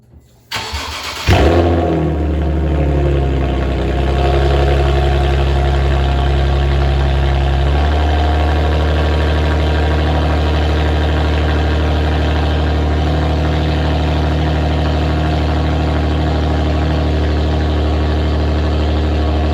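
A Nissan 370Z Nismo engine cranks and catches, then settles into a loud, steady idle with a deep exhaust rumble that continues throughout.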